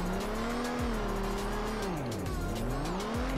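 A Mustang in the Rebaixados Elite Brasil driving game slides through a handbrake drift, its engine droning and wavering in pitch while the tires squeal steadily throughout, loud and continuous with no talking.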